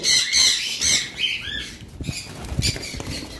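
Small conure parrots, sun or green-cheek conures, let out shrill, close squawks and chatter at the start, then wings flutter and patter with scuffling movement, and no one speaks.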